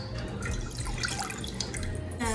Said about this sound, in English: Now you're going to add about 2 cups of whole milk into the saucepan.